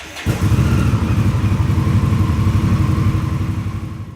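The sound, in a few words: Indian Scout motorcycle engine running after restart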